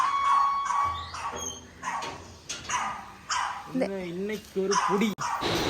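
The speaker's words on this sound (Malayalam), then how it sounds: "നമ്മുടെ ബീച്ചിൽ നമ്മുടെ പൊന്നു റാമ്പോ അടങ്ങുന്ന കുറേ പട്ടിക്കുട്ടന്മാരുണ്ട്" Several dogs on Kollam beach bark, yip and whine in short bursts, mixed with people talking nearby.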